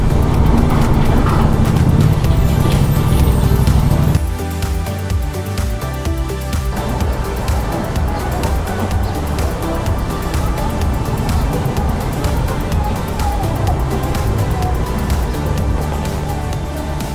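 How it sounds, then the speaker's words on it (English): Road traffic rumbles steadily while riding, with cars passing close by. A loud, broad wash of engine and tire noise runs throughout, with one heavier pass early on and no talk over it. "Some cars right here."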